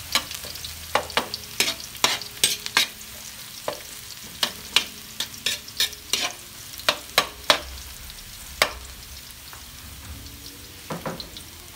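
Garlic sizzles in oil in a pan for a Filipino-style laksa, with a constant soft frying hiss and repeated sharp clicks and scrapes of a spatula stirring. Close and moderately quiet, no speech.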